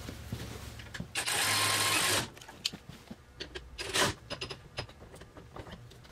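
A power tool with an 8mm hex bit running bolts during a bumper install on a Polaris RZR Pro XP, one steady whirring burst of about a second followed by short clicks and metallic handling.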